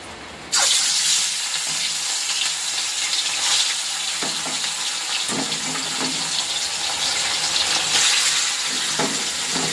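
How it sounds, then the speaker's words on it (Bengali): Marinated food drops into hot oil in a wok (kadai), bursting into a loud, close sizzle after a quiet start and crackling steadily on with occasional stirring clinks, no voices. "এখন ভেজে নেব।"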